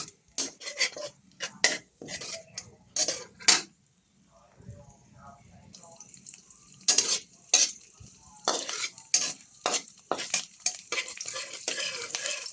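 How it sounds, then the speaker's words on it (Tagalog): Onion and garlic sautéing for pork adobo, with repeated sharp spatula scrapes and clinks against the pan over a low sizzle, spoken voice briefly in between. "Inisa ko ng sibuyas at bawang."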